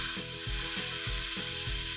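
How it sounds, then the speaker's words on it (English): Beef sears loudly over high heat in a frying pan, a steady crackling hiss with soft rhythmic scraping as it's moved about. "Sear over high heat until all sides are well browned."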